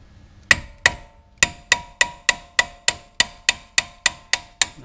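A hammer taps on a brake part of a 2016 Chevy Silverado during a brake replacement, giving about fourteen crisp metallic knocks in a steady, slightly quickening rhythm, close and clear with no talking.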